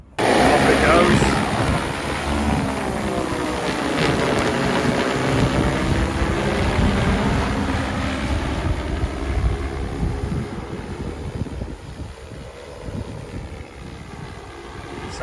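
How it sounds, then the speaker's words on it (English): A large agricultural quadcopter sowing drone flies over a field seeding barley, its steady loud whirring rotor drone running throughout, with wind buffeting the microphone. "It's actually more of a quadcopter than a drone"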